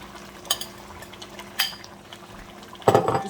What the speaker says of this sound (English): Just add my crayfish and now stir.